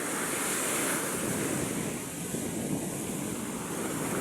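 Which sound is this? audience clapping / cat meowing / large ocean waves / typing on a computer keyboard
large ocean waves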